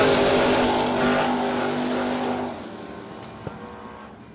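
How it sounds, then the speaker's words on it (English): At a memorial drag race, a drag racing truck roars loudly down the track, its engine note strong at first and then fading and receding into the distance after about two and a half seconds. "There comes the truck."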